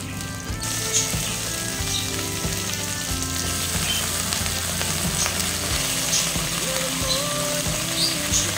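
Chicken pieces sizzle and fry steadily in a pan with a small chili, a continuous dense crackle with occasional stirring clinks, no talking.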